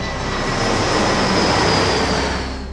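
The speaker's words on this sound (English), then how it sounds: "Magneto's eyes flick open as he hears the sounds of a familiar jet." A jet aircraft in an animated X-Men episode roars loud and close, a dense continuous rumbling whoosh holding steady before easing slightly at the end.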